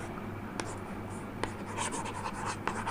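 Words written by hand, a faint pen scratching and tapping on paper with a few sharper strokes, close and quiet against a low background hum.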